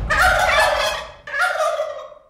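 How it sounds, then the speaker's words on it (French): Poultry calling in two loud, close bursts, a long harsh gobbling-like squawk followed after a brief gap by a shorter one, heard alone with no talk. "Ben c'est des poules."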